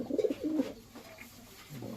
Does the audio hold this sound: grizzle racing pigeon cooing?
yes